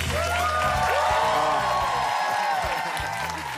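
A studio audience claps and cheers steadily at a Spanish-language TV entertainment show, a dense continuous wash of applause with voices and whoops mixed in.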